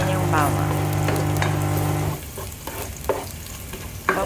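Garlic sizzles in a hot pan, close by, with a sustained tone for the first two seconds, then softer crackling and a few scraping knocks toward the end.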